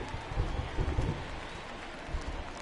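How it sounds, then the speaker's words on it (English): Rain falling on a baseball stadium during a Cubs game against Cincinnati, heard as a broad, steady wash of rainfall with low rumbling swells, moderately faint and distant, with no talking. "the rain starting to intensify"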